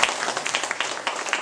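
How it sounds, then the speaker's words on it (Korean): An audience at a commemorative lecture gives a brief round of applause, dense overlapping claps close and steady for just over a second, with no talk. "박수 한번 주세요"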